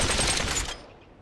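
A short rapid burst of automatic gunfire from a recoiling weapon in the VR shooter game Population One, loud and close for under a second before quickly fading out.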